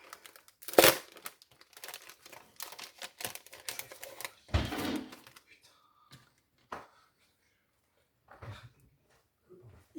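A packaged scrapbooking stencil being unwrapped, with crinkly plastic rustling and tapping in scattered bursts, two louder crackles standing out, then quieter handling noises with pauses between.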